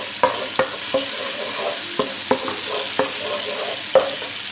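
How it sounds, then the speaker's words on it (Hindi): Ginger garlic paste fries in a pan while a utensil stirs it, giving a steady sizzle broken by several sharp scraping taps, close by and with no voices. "हल्का से इसे फ्राई करेंगे।"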